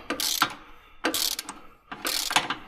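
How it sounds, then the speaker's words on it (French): Three quick bursts of clicking from a ratchet wrench fitted with a 36 mm socket and extension, worked on a Porsche Cayenne, each burst close and crisp with short pauses between. "il faut une grosse clé là, une grosse douille, une grosse clé, avec sa petite rallonge qui va bien"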